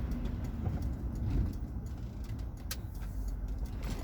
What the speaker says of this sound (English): Got the tourists driving fast and the locals driving under the speed limit